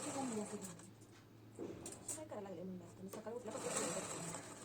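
Sewing machine single-stitching the front part of a blouse, a faint, quiet mechanical whir running beneath someone speaking throughout.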